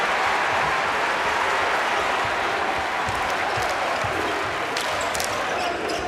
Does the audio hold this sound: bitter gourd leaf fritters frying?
no